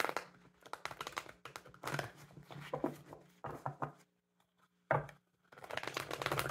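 Tarot cards being shuffled by hand, close and crisp, in repeated riffling bursts separated by brief pauses, with no talking.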